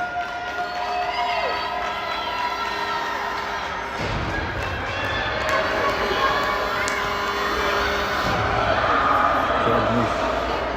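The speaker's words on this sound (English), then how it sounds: "Wow, the crowd goes wild." Spectators at a youth ice hockey game shout and cheer after a goal, a loud sustained crowd roar with children's high-pitched yells swelling across several seconds, with a commentator's voice running over it.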